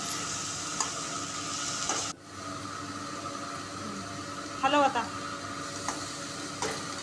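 Chopped vegetables and tomato for pav bhaji roasting in a pan, a steady sizzle with occasional stirring scrapes and a few clinks, while someone talks over it.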